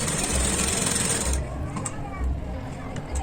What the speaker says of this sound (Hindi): इसको डब सिलाई ले रही हूँ।